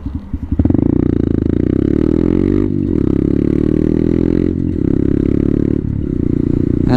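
A Honda Grom motorcycle is ridden, its small engine droning loud and close with repeated rises and drops in revs as gears change, plus some rattle, and no talk.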